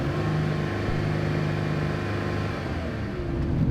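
A bus engine cranking during a jump-start attempt near Olympic National Park, a steady close mechanical whirring drone that carries on throughout with little change.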